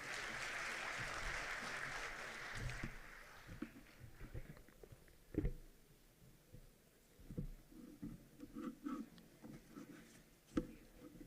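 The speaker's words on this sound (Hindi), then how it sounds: "एक बार जोरदार तालियां आप बजाइएगा।" Audience at a welcome ceremony for the Chief Justice in Hansi applauds, a fairly faint burst of clapping in the first few seconds that fades into scattered knocks and quiet room noise.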